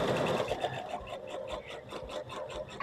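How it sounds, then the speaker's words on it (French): A sewing machine stitches fabric for a wrap skirt in a steady, rapid mechanical run, close and continuous for the whole stretch with no talking. "Donc ensuite, je vais commencer à coudre."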